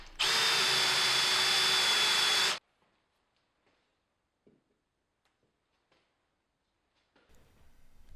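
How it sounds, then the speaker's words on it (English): Hand power drill boring a mortise in wood for a Shaker-style bench, a loud steady whine lasting about two and a half seconds, followed by faint workshop taps and near silence. "I use the lasers to align the drill for accurate mortises"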